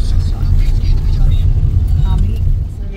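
A car engine rumbles low and steady at close range as the vehicle arrives in a village, while someone talks over it.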